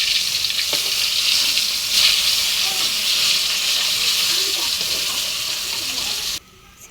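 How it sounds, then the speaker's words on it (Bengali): Silver carp fish frying in hot oil gives a steady, loud sizzle and crackle throughout, then cuts off abruptly just before the end. "সিলভার কাপ মাছটা একটু লাল লাল করে ভেজে নিলেই ভালো লাগে।"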